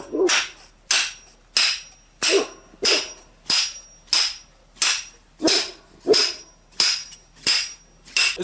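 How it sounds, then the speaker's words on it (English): Steady series of sharp strikes from a small hammer driving pegs for an Army tent 30M1 Bereg into the ground, about fourteen blows at an even pace, close and loud. "we have this little hammer, which was supplied in the kit"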